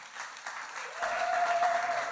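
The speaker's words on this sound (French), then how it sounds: "je vous demande de faire un tonnerre d'applaudissements au premier orateur sur les nouvelles technologies" Audience applause at a Demo Day event for the first speaker on new technologies, a short burst of clapping that swells after a second, moderately loud.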